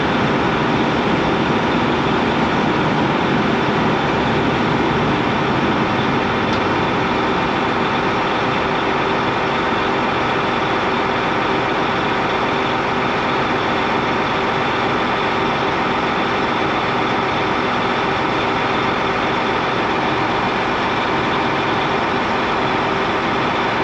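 A tractor engine runs continuously at close range, a loud, steady low rumble with a constant mechanical drone and no pauses throughout.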